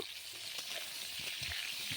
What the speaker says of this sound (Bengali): সাদা তেল দিয়ে ভেজে নিচ্ছে